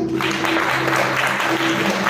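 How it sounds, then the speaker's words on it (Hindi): A church congregation gives Sister Richa a short burst of steady applause, dense and fairly close, lasting only a couple of seconds with no talking over it. "रिचा सिस्टर के लिए तालियां बजाएंगे"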